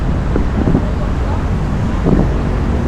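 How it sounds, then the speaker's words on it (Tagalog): Strong wind roars steadily into the microphone during a night bike ride through Manila, a constant buffeting rush with faint traffic underneath. "Ang lakas ng hangin, grabe."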